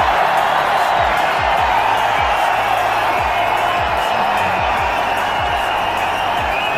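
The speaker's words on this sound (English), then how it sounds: "Crowd loves it." Stadium crowd at a one-day international cricket match between India and Australia in 2007 cheering, a steady loud broadband roar sustained throughout with no gaps.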